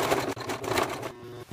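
A sewing machine runs in quick mechanical bursts while hemming, with a rapid rhythmic stitching rattle and a brief pause near the middle.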